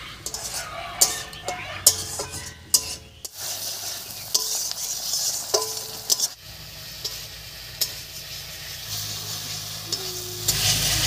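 Mashed tomato for a spicy tomato bharta cooks down in a pan, bubbling and sizzling steadily while a spoon scrapes and taps the metal at irregular moments.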